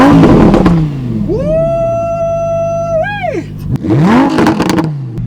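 A Lamborghini Huracan RWD with a 5.2-liter naturally aspirated V10 revs loudly and close up, rising sharply to a held high note, then dropping before a second quick blip near the end.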